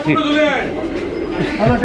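At the Sarulia pigeon market in Bangladesh, where racer pigeons are bought and sold, low coos break through close, loud talk near the end, with market chatter throughout.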